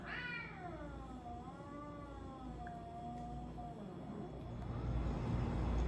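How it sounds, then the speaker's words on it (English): An angry house cat gives a long, drawn-out caterwauling meow with a wavering, bending pitch, fairly close and moderately loud in a quiet indoor room, with no talking over it. "we're having a angry cat in the house."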